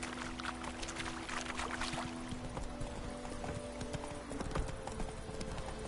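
Horse hooves clip-clop steadily at a quick, rhythmic gait in a video game, close and continuous, over a dense wash of ambient game sound with sustained musical tones.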